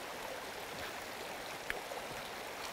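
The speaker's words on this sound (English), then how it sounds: "here we have a river quite close to the cabin" A river flows close to a remote cabin in Norway, giving a steady, soft broadband rush of moving water, faint and even throughout with no voices.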